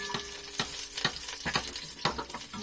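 Onions being stirred in a frying pan while cooking adobo outdoors, with a soft background sizzle and a series of distinct spatula scrapes about every half second, close but fairly quiet.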